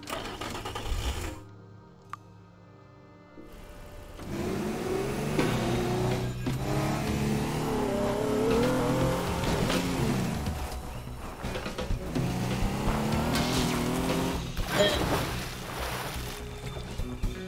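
In the game Teardown, a car engine revs and whines as the car is driven and plowed into a jacuzzi, with water sloshing after a brief quiet gap, rising and falling several times.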